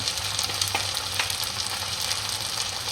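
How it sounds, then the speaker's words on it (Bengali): Green chili and garlic paste frying and being stirred in a pan, a steady close sizzle with a few soft spoon scrapes running throughout. "কাঁচা লঙ্কা আর রসুন একসাথে করে আমি বেটে রেখেছিলাম, সেটা দিয়ে দিলাম। আবার একটু নেড়ে নেব।"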